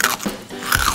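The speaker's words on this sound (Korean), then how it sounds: "미칠 듯한 바삭 소리를 느끼며" Teeth bite hard into super-crispy fried pork belly skin, giving a loud, close, sharp crackling crunch that comes in two quick bursts with no voices.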